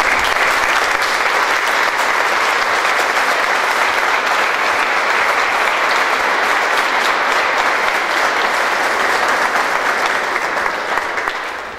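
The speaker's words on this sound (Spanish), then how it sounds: "Un fuerte aplauso para ellos." Loud, sustained applause from the crowd at a 2020 primary school graduation ceremony at Escuela 82 General Las Heras, an unbroken roar of clapping that runs for about twelve seconds before easing slightly at the end.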